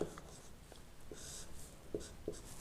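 A pen writes out a maths solution in faint, scratchy strokes with soft ticks and short pauses, quiet and close.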